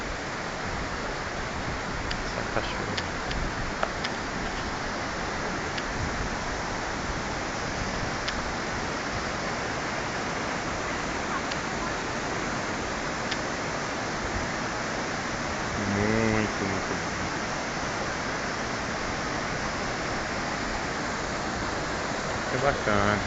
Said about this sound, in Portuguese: Essa cachoeira.